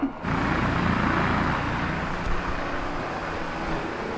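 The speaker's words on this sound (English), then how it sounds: "Holy moly, helicopters are so loud." A helicopter passes overhead early in the morning, producing a loud, continuous rumbling drone that starts abruptly and holds steady for several seconds with no voices.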